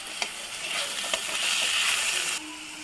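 Chopped onion with coarsely ground ginger, garlic and green chili paste sizzling in hot oil for a chicken gravy: a steady, bright hiss with faint crackles that drops off sharply near the end.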